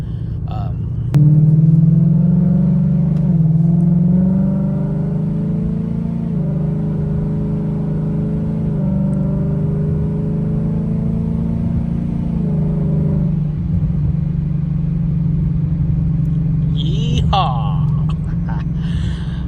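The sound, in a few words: car engine driving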